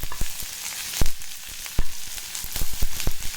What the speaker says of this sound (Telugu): ఆనియన్ అంతా బాగా ఫ్రై అవ్వాలండి. బ్రౌన్ కలర్ వచ్చేంత వరకు ఫ్రై చేసుకోవాలి.